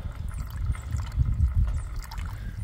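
Water trickles steadily from a drain tile pipe carrying runoff out from under a stone at a new home construction site, a soft continuous dribble heard close by outdoors.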